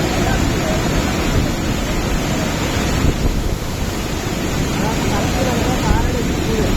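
Water rushes at a waterfall during a rescue scene, a loud, steady roar of broadband noise that fills the whole stretch without letting up.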